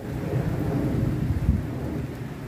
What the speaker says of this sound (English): it's really coming down, that rain